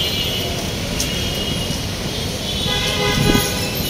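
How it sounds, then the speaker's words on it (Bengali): Car horns toot amid dense city traffic on a road in Dhaka near the Karwan Bazar metro flyover, short honks rising over a loud continuous roar of engines and road noise. "আর পাশের গাড়ির অনেক নয়েজ সাউন্ড"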